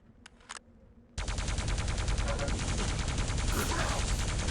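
Rapid, steady stream of plasma gun shots in Quake Live, loud and close, firing continuously after a couple of brief earlier blips, with an even, fast machine-like rhythm.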